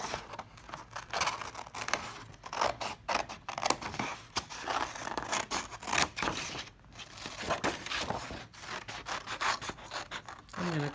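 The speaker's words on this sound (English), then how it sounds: "I'm going to cut out my hand on the heavy lines." Scissors snip and rasp through paper, cutting out a hand shape along heavy lines in a steady run of short cuts, close up, with no talking.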